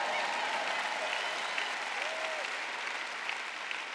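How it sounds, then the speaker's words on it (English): A church audience claps steadily and evenly for the full stretch, a dense wash of applause from a modest crowd with no clear breaks. "Good, I got three people clapping over here."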